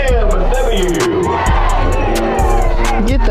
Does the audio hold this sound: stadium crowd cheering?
yes